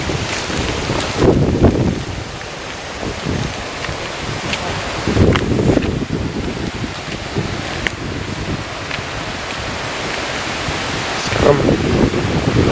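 Strong gusty wind storm roaring steadily into the microphone, with louder buffeting surges near the start, middle and end, and a faint voice underneath.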